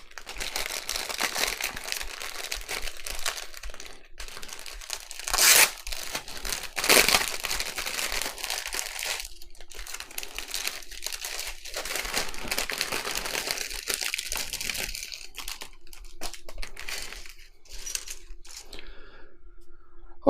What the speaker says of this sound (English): let's open up a bag and have a quick look at some of the parts